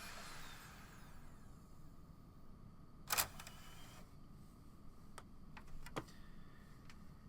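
An Xbox One Blu-ray disc drive ejects a disc, giving a faint mechanical whir followed by a sharp click and a few lighter clicks and ticks in an otherwise quiet room.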